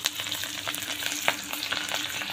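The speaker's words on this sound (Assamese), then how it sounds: "তেলখিনি গৰম কৰি লৈছোঁ আৰু এতিয়া ইয়াত পিঁয়াজ জলকীয়া দি লৈছোঁ" Onion and green chili sizzle steadily in hot oil in a home kitchen, with a dense crackling spatter and occasional sharper pops throughout. No one talks over the close frying.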